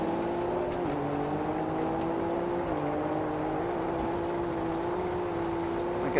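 A Ford Raptor's engine droning steadily through a dirt race in Test Drive Unlimited Solar Crown, a sustained buzzing tone that dips and climbs slightly with gear changes, steady and close throughout.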